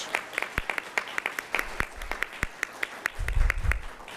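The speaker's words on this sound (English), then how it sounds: "I would like to give you a round of applause with these kiddos" A small group at a school board meeting gives a light round of applause, a few scattered claps that come through thin and uneven, with low rumbling movement near the end.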